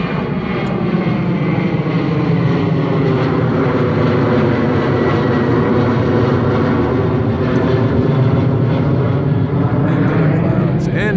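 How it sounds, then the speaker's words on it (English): A loud airplane engine roars overhead, a steady droning whine that holds throughout, close and powerful, above the NTC golf course. "There goes an airplane."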